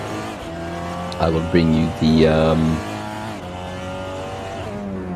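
A WTCR touring race car in Assetto Corsa runs a flying lap at Paul Ricard, its engine droning steadily through rising and falling revs with brief tire squeal, while someone speaks over it.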